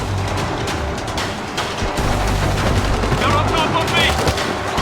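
Rapid machine gun fire rattles on continuously in the World War Z Aftermath shooter game, dense and loud, blending with other gunfire and explosions while a player speaks over it.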